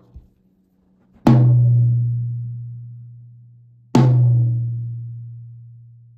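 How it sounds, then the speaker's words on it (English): A tom-tom drum with no EQ is struck with a stick twice, each hit giving a sharp attack followed by a long, low, ringing tone that slowly decays. The drum is close and alone. "that is the sound of the stick hitting the head"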